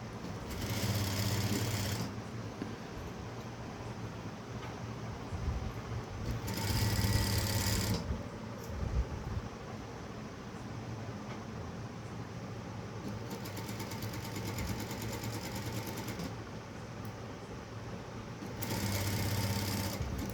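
A sewing machine stitching a blouse runs in several whirring bursts of a few seconds each, separated by short pauses, fairly quiet and steady with no voices.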